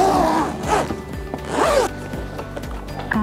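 Zips on a Mima Xari pushchair carry cot being unzipped close up, heard as several rasping zipper pulls, loud and near, with no talking.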